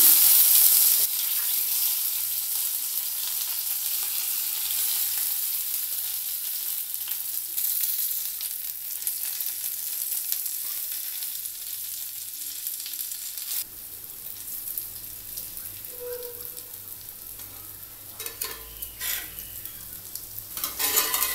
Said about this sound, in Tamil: இப்போ இது எண்ணெயில் போட்டு வறுக்க ஆரம்பிச்சிடலாம்